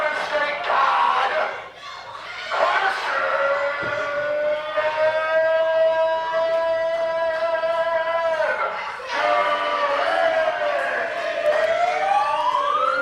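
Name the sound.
siren sound played at wrestling entrance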